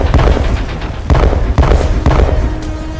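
Explosions from drone strikes on an enemy base: several heavy booms at regular intervals, each a sharp blast that fades into a rumble under continuous background noise, with no voices.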